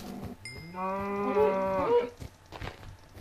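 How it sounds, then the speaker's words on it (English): Cattle in the Minecraft video game moo in one long, loud, drawn-out call with a clear harmonic tone, preceded by a brief high chime and followed by softer scuffling noises. "Man, these cows are fast."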